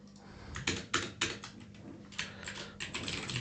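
Quick, close keystrokes rattle on a computer keyboard while web code is written, clicking in short irregular bursts separated by brief pauses.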